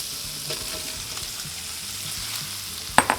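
Mushrooms frying in bacon fat in a pan, a steady close sizzle with faint stirring clicks and a sharp clatter near the end.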